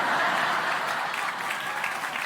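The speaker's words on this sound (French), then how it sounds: "Arrête d'applaudir" A comedy show audience at Fabrice Eboué's stand-up performance applauds in a thick, sustained wave of clapping that holds steady and close for the whole moment.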